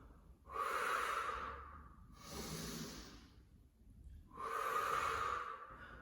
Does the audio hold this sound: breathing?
yes